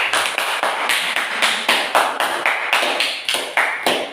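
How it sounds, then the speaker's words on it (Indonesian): A classroom group claps in a steady, unified rhythm for a student group after a presentation, sharp synchronized beats repeating about three per second, close and fairly loud with no talk over them. "Kita berikan tepuk tangan untuk kelompok 2."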